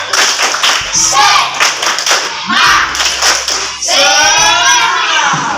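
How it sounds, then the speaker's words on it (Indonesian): Elementary schoolchildren in a classroom in Ternate clap their hands in a rhythmic pattern, loud and close, with thumping beats and excited young voices joining in toward the end. "Tepuk tangan dulu."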